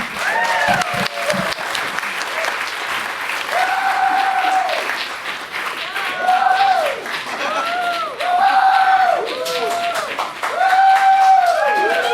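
A comedy club audience claps and cheers steadily as comic Joe Staats is welcomed to the stage, loud sustained applause with a voice talking over it.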